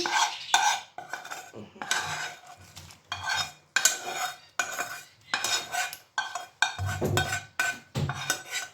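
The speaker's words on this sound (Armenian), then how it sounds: "հիմա էլ լցնում եմ սոխարածը, թող միասին եփվի" Chopped onion goes into a cooking pot of Greek yuvarlakia, with a spoon scraping and clinking against the pot in short, repeated strokes, up close and fairly quiet.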